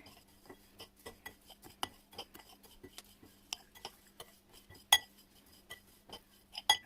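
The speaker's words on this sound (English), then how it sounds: "I'll now get the knife that I was using earlier and just gently stir this around" A knife gently stirs vegan mac and cheese in a dish, giving soft, quick metallic clinks and scrapes, close and quiet, with a couple of sharper knocks.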